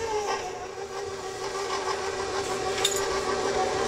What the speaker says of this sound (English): We're gonna beat it to light and fluffy.